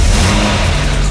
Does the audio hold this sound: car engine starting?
yes